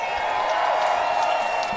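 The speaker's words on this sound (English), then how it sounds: "How about a round of applause for both these guys?" A fight-night crowd claps and cheers after a three-round bout, a dense continuous wash of applause carrying through the whole short moment.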